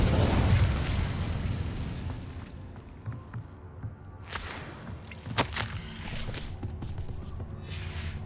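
The Incendio fire spell in a video game: a loud whooshing burst of flame at the start that fades into crackling, followed by further sharp magical pops and bursts amid game ambience.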